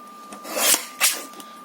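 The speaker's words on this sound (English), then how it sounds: "my trimmer, and I'm just going to line these 2 up and trim them down" A paper trimmer slices through two lined-up journal pages in a craft setting, making two quick, soft rasping swipes close by in an otherwise quiet room.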